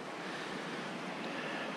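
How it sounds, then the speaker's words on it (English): Fast-moving water rushes in McClusky Creek in the Yukon wilderness, a steady, dense, close roar that fills the whole moment without letting up. "So this is McClusky Creek, and it's a fast-moving creek for sure."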